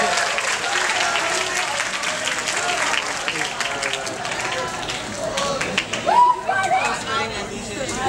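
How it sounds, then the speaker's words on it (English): A presentation audience claps for a volunteer, a dense burst of applause near the start that thins out, with chatter and a voice emerging over it toward the end. "everybody give him a round of applause"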